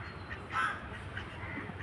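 One faint duck quack rises briefly out of a low, steady outdoor hum, with no other calls following.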